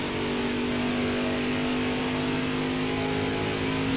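Steady race car engine drone in a racing video game at Pocono, holding a constant pitch at moderate level throughout with no talking, like a car cruising or coasting at speed.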